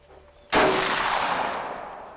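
A single loud gunshot from target shooting in the woods, a sharp crack followed by a long decaying echo through the trees.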